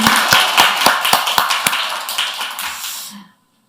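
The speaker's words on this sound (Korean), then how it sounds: "우리 하나님 아버지께 먼저 박수 올려드리고 싶습니다" A church congregation applauding during a Sunday worship service, with a sharp rhythmic clap pattern over a broader wash of hands. The clapping fades and then stops abruptly, leaving near silence at the end.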